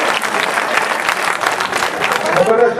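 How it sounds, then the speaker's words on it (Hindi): Audience at an All India Mushaira poetry recital claps in a loud, continuous burst of applause mixed with crowd murmur, with a voice beginning to speak as it tails off. "जोरदार तालियों में एक बार और इस्तेमाल कर दीजिए दोस्तों"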